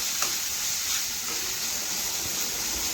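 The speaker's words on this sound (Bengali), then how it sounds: "এখন আবারও নাড়াচাড়া করে নেব" Carrots and onions being stirred in a hot pan while cooking chowmein, a steady soft sizzle and hiss with faint scraping, close by and unbroken, no voices.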